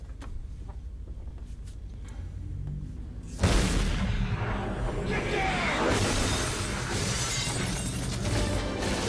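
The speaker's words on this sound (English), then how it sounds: "Damn, they just opened fire." Gunfire in the action film Face/Off: after a quiet, tense stretch, an abrupt loud burst and crash breaks out and continues as a dense, sustained roar of shots and shattering debris.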